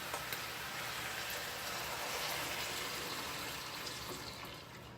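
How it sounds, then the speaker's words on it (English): Wine is poured slowly into a hot pan while cooking chicken marsala, a continuous faint sizzle and hiss that stays steady, then eases slightly toward the end, with no talking. "So now we're going to add our wine."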